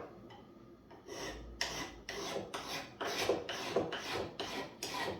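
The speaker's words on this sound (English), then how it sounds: "This is a finer tooth file, so I'm going to use it for finishing some of the finer work" A finer tooth file rasps across a kit knife during finishing work, steady rhythmic strokes about every half second, close and clear with no talking.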